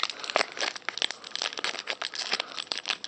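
Crinkly plastic wrappers of Pokémon Noble Victories booster card packs being torn and opened, a close, continuous run of crumpling crackles and small tears with no talking.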